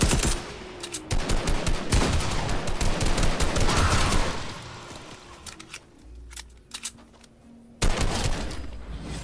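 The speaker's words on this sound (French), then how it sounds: "C'est moi ou ça me tire le dessus par derrière toi?" Bursts of rapid gunfire crackle in a video game, loud dense volleys in the opening seconds, then quieter scattered shots and a final strong burst near the end, with no talking.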